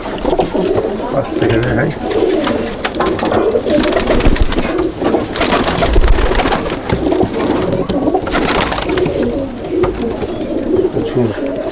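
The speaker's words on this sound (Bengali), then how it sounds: "এগুলো সব উড়ানোর পায়রা, এগুলো সব এগুলো উড়াচ্ছেন।" Many flying pigeons, mostly females, coo in a crowded loft at Sangrampur, a steady dense murmur of burbling calls with wing flutters, while someone talks close by.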